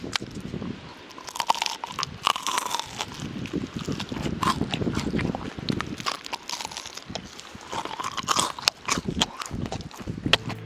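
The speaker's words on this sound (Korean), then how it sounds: "더 자세하게 바삭함을 들려드리겠습니다" Loud, crisp crunching bites of fried chicken up close, repeated crackles of chewing through a crunchy coating, with no talking.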